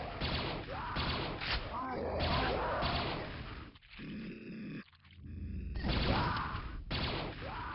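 Gunfire, impacts and grunts from the video game Quake: Scourge of Armagon, dense bursts of shooting and thuds with a quieter pause midway, mixed with game sounds.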